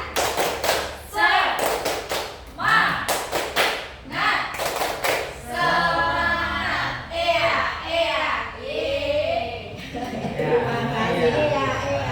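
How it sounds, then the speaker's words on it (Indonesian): Bursts of rhythmic group clapping from people in a school discussion session doing a patterned spirit clap, with sharp synchronized claps in short sets during the first half, followed by children and adults chanting and talking. "tepuk semangat dulu biar semangat"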